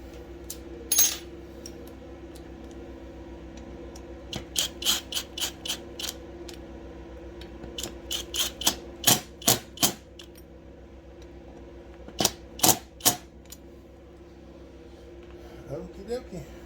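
Small crankcase bolts on a Stihl MS 461 chainsaw being lightly tightened, giving scattered sharp metallic clicks and ratcheting ticks in short bursts over a low steady hum, close up, with talking in between.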